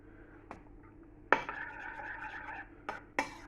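A teaspoon clinks against a bowl as thickener is added to warm homemade yoghurt, followed by a short stretch of close stirring and a couple more sharp taps, quiet and alone.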